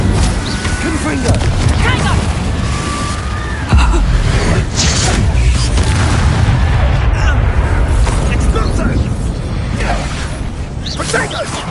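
Confringo fire-blast spell bursting in combat in the Hogwarts Legacy video game, a series of booming explosions and whooshes amid dense, loud battle noise, with a voice calling out spells over it.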